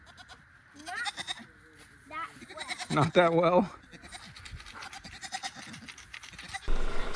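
A goat bleats once, briefly and fairly close, around the middle, while people talk nearby over faint outdoor ambience on a homestead.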